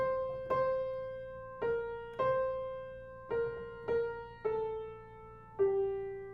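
A simple hymn tune melody of single sustained notes played alone, about seven notes at a slow, even pace, each struck and ringing out.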